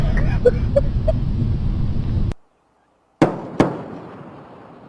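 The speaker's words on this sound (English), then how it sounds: "Twin sonic booms heralding Atlantis' arrival at the Florida spaceport." Two sharp booms in quick succession, like the twin sonic booms of Space Shuttle Atlantis arriving at the Florida spaceport, crack out after a brief silence, each followed by a short rumbling tail.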